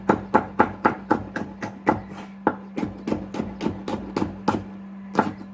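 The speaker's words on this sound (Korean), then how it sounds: "다음에는 파프리카, 채를 썰겠습니다." A knife julienning bell pepper chops quickly and rhythmically on a cutting board, a rapid run of crisp taps close by with brief pauses.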